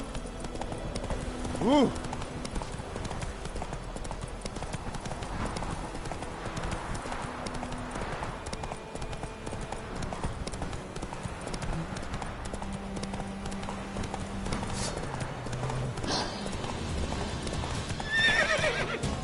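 Horse hooves clip-clopping at a steady walking rhythm in The Witcher 3, with occasional snorts and whinnies over an outdoor game ambience while someone talks now and then.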